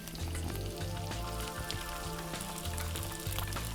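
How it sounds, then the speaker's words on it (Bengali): Soaked basmati rice tipped into a pan of hot oil and fried onions for mixed vegetable khichuri, giving a loud, steady sizzle with scraping stir strokes throughout. "এবার আমি চালটা দিয়ে দিচ্ছি।"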